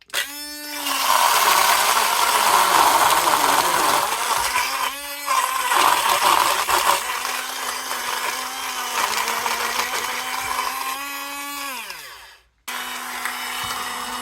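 A rechargeable portable blender whirs through liquid while making a smoothie, a steady motor whine with slight pitch shifts. It cuts off abruptly near the end, then starts again briefly.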